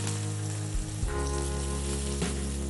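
Mustard seeds, green chillies and onions sizzle steadily in hot oil while being lightly sautéed, a dense crackling hiss with a few louder spits and stirring bumps.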